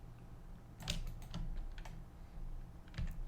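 Computer keyboard keys are pressed in a few distinct, close clicks spread over about three seconds, quiet and unhurried, with no talking.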